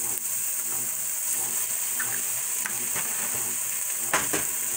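Eggs fry in sausage grease in a pan, giving a steady close-up sizzle with scattered crackles and pops throughout and a few louder spits near the end.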